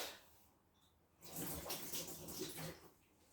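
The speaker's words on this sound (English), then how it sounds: "I'm just going to rinse my stick off with that." Plain water runs and splashes as a stirring stick is rinsed during mead making, a faint burst of flowing water lasting under two seconds amid near silence.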